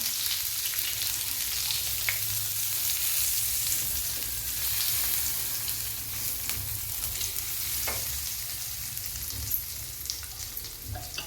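Mackerel (bangda) fish frying in a pan over low heat, a steady, continuous sizzle with a fine crackle that stays even throughout, with no voices.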